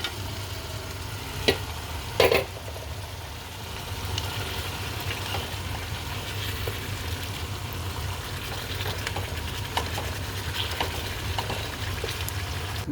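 Fish frying in a pan with spices, a steady low sizzle and hiss running for several seconds, with a couple of brief louder clatters near the start.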